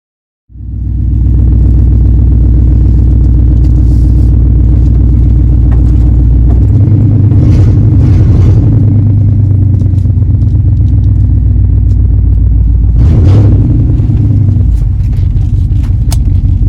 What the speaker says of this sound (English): I wonder what Crystal's gonna think of my exhaust.